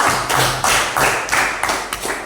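A classroom of students claps in unison during a lesson on the respiratory organs, a few loud synchronized bursts in a steady rhythm, close and filling the room.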